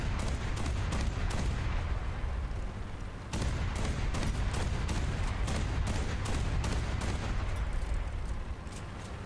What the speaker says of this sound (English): The SBA is already firing off.